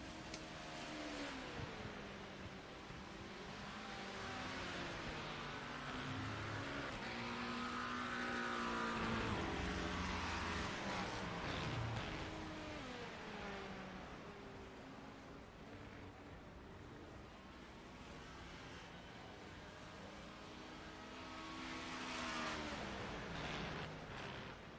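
GT3 race cars at Circuit de la Sarthe pass during an endurance event, engine notes rising and falling in sweeping Doppler whines, heard faint and distant with a continuous roar underneath.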